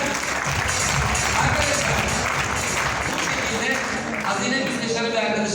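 An audience applauds a participant after a mobile-phone balance test demonstration, a dense burst of clapping that carries steadily for several seconds before tapering, with voices mixed in.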